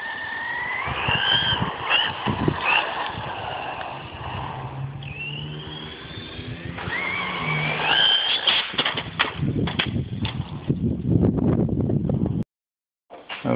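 A Duratrax Evader EXT2 RC car with a Tacon 3200KV brushless motor on a 3S LiPo battery whines close by at part throttle, its pitch rising and falling over several bursts before cutting off abruptly.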